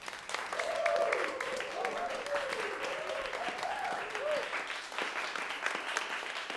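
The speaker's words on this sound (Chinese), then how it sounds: "大家掌声鼓励。" Sustained classroom applause from students clapping together for the top scorer of a school exam, steady and dense for several seconds with a faint murmur of voices mixed in.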